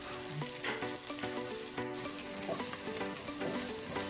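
Goat head curry frying in a pan gives a dense, close sizzle with repeated scraping from stirring, steady throughout and free of talk.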